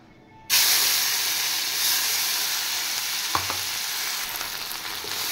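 Spice paste dropped into a hot pan with oil, bay leaves and cumin seeds, starting with a sudden loud burst of sizzling. The steady hissing fry that follows is broken by a brief stirring scrape.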